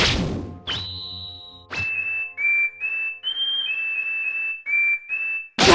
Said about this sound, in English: the frequency of a whistle is as unbearable as a million nails scratching on a chalkboard